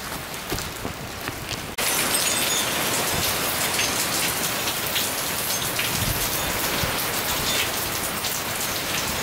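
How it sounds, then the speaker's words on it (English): Heavy rain pours down during Hurricane Irma, starting lighter and jumping abruptly to a dense, loud, steady downpour that hisses on surfaces with no voices. "So it's raining and there's some wind"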